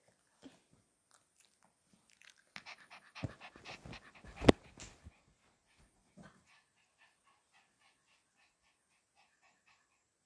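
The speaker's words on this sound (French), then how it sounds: "Désolée si vous entendez un chien." A pet dog pants and chews near the microphone in a quiet room, with a burst of wet biting and crunching in the middle, then fading to a few faint clicks.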